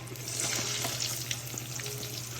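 Pampano fish frying in a pan, a steady close sizzle and crackle of hot oil running unbroken with small spits and pops, no voices over it.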